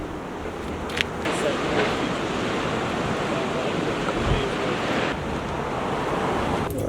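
Ocean surf rolls steadily onto an Oregon beach, a continuous broadband wash of breaking waves with some wind noise over the microphone, loud and unbroken throughout.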